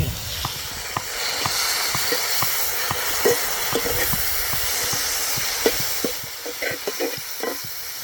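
Onions and tomatoes sautéing in a pan for a village-style fenugreek kuzhambu, a steady close sizzle and hiss with repeated light scraping stirs of a utensil against the pan.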